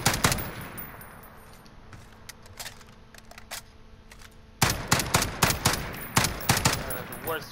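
Rapid gunfire bursts in the Call of Duty: Modern Warfare video game: a sharp volley, a quieter stretch of scattered shots, then dense automatic fire in loud clusters near the end.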